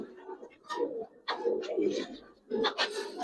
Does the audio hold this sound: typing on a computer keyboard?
no